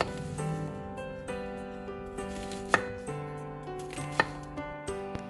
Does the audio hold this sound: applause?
no